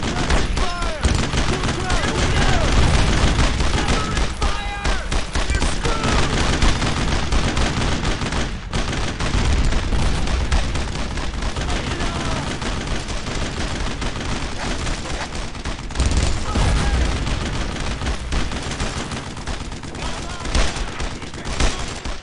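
Dense, continuous gunfire and explosions in the World War II video game Brothers in Arms: Road to Hill 30, loud rattling bursts and booms overlapping for the whole stretch, with occasional shouted voices underneath.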